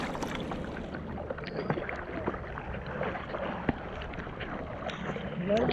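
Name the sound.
kayak being paddled through ocean waves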